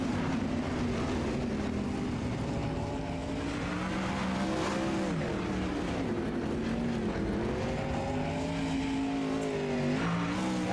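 410 sprint cars roar around a dirt track, a continuous loud engine drone with rising and falling pitch as several cars pass, layered together without pause.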